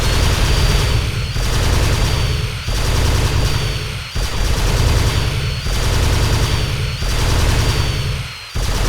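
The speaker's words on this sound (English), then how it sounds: "You have 90 seconds to destroy all the targets using the turret gun." Sustained rapid turret-gun fire in Terminator: Dawn of Fate, loud and close, coming in long bursts with short pauses between them and no voices.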